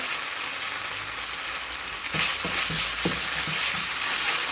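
Pepper frying in a pan for peppered beef skewers, a constant sizzling hiss with a few soft scraping stirs near the end, no voices.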